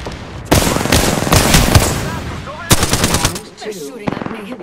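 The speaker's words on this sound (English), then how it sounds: "They're shooting at me." Rapid automatic gunfire in the video game Apex Legends, with loud, close bursts of shots that stop and start in short volleys, followed by scattered quieter shots.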